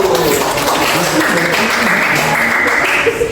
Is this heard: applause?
yes